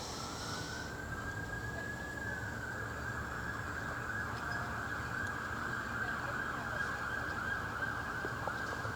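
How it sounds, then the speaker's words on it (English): A police car siren wails steadily in the distance, a sustained tone holding over a constant low rumble of traffic and outdoor ambience. "Like, see, there we go. Police car going."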